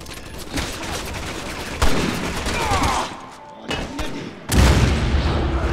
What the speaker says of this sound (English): They threw a grenade at me.